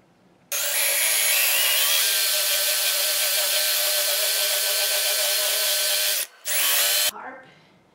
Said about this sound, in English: I'll need to drill the hole that this will be going in.